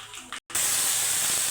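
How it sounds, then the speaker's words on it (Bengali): Water hits a hot frying pan where snack ingredients have just been fried, giving a short rustle of frying before a brief gap, then a loud, steady, close steam hiss. "এটা ভাজা হয়ে গেছে, এবারে ওতে আমি জল দিয়ে দেবো।"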